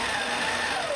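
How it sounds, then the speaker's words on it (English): APQS longarm quilting machine sewing down the edge of a quilt, producing a steady, dense motor hum with fast needle chatter, close and continuous. "now I want to sew down the edge"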